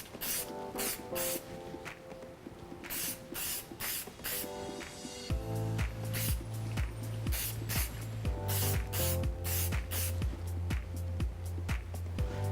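Firm hold hairspray sprayed onto a styled wedding hairdo in repeated short, hissing bursts, close and fairly loud, over steady background music.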